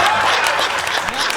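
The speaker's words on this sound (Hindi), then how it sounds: "ऐसी तालियां नहीं, ऊपर को हाथ करके तालियां बजाइए" Applause from the audience at a Hindi comic poetry gathering, a short burst of dense clapping with crowd noise, loud and close.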